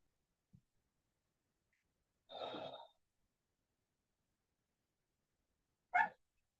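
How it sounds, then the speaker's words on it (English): A dog yelps twice in an otherwise quiet room, a short cry followed a few seconds later by a sharper, brief yelp, both somewhat distant. "I heard my dog yelp."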